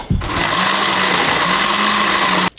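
A blender whirs loudly and steadily as it blends coconut with warm water, then cuts off abruptly near the end.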